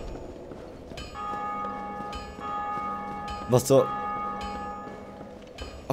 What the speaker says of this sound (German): Okay, klar, Glocke läutet, warum auch immer.